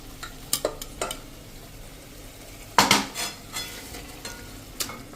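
Mashed bottle gourd and potato pulp goes into a pan over a medium gas flame, with sharp clinks and scrapes of a spoon against the metal pan in scattered bursts over a faint, quiet sizzle.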